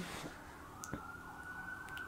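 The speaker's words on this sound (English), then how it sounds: "If you can't hear that, that's the sirens." Emergency vehicle sirens wail faintly in inner city Melbourne, a thin steady tone drifting in from a distance with a few brief sharp knocks nearby.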